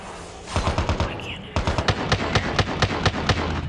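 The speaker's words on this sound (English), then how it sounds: "There's gunshots." Rapid bursts of gunfire in Call of Duty Mobile, a short volley followed by a steady rhythmic string of loud shots, with a brief pause between them.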